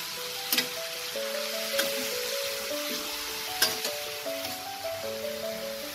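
Snow pea greens frying in a pan and being stirred in, giving a steady soft sizzle with a few sharp clinks of a utensil against the pan, while faint background music plays.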